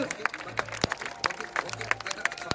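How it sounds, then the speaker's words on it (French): A motocross freestyle show crowd applauds rider Maxime Bringer with scattered clapping, while a loud announcer keeps talking over it and a motorcycle engine hums low in the background. "On peut l'applaudir bien fort, s'il vous plaît, mesdames et messieurs"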